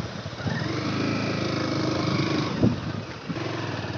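A Honda motorcycle engine runs steadily close by, a continuous mid-pitched drone that swells briefly in a short rev before settling back to a constant hum.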